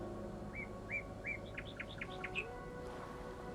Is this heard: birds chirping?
yes